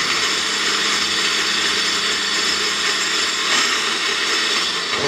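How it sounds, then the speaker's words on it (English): A blender whirs steadily as it blends a hot cocktail drink with butter, a loud continuous motor drone with no talking. "So we're going to just blend that, just to get that butter going."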